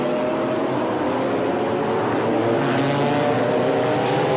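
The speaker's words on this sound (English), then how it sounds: "On board, fighting with Conrad behind one of the Ferrari F40s." Onboard engine roar of a racing car chasing a Ferrari F40 in a 1995 BPR Global GT race at Monza, a loud continuous high-revving drone that shifts pitch slightly as the car accelerates.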